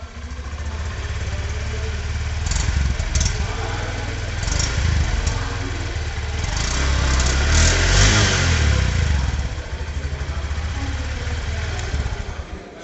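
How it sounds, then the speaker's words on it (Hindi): A 2024 Honda SP125 125cc motorcycle runs with its exhaust close by, idling and then revving in smooth, moderate swells that rise to a peak and settle back, with a faint voice in the background. "एक बार ना मैं इसकी आपको एग्जॉस्ट नोट भी सुना ही देता हूँ"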